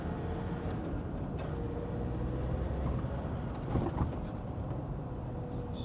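A Land Rover Defender Td5 90 diesel on a road test on a cold, miserable day, steady engine drone and road rumble heard from inside the cabin, with a slight swell in revs near the end.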